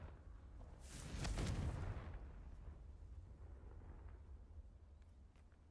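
A Confringo blasting spell goes off in the video game Hogwarts Legacy, a single loud booming burst about a second in that rolls away into a low rumbling tail, with no voices.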